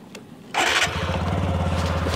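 A 2022 TVS Apache RTR 160 2V motorcycle engine cranks and fires at close range after a brief quiet moment, then settles into a steady, loud, throbbing idle.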